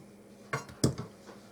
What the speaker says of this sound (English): slice up my onion